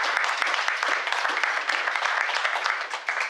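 Steady, dense applause from a crowd, many hands clapping together without a break for a few seconds.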